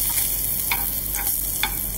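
Spinach stems and garlic stir-frying in a pan, a steady close sizzle with a few scraping stirs of the spatula breaking through at intervals.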